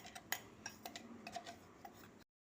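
Ground idli podi spice powder stirred and mixed in a metal vessel, a quick series of light scraping ticks and taps from the spoon, close and soft, with no talk.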